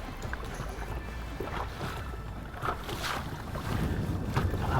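Wind and choppy waves surround a fishing boat out bass fishing on Lake St. Clair, a constant loud rush of gusts and water slap that swells slightly toward the end.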